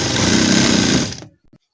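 A sewing machine stitches a sharara with a loud, rapid mechanical whir for just over a second, then stops, leaving a few faint handling sounds.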